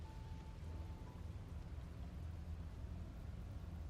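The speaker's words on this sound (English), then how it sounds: "Raining, it wasn't raining last time or the time before that." Rain falling in the woods in the video game Slay the Princess: a faint, steady patter and hiss of rainfall, continuous and soft with no other sounds.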